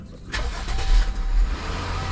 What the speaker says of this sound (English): So when you start the car, it's gonna take, it's gonna wobble, misfire.